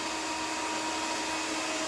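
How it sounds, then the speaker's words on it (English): Hair dryer blowing wet paint across a canvas, a loud, steady close-up whoosh that runs unbroken with no voices. "we're getting the different effect from the hair dryer."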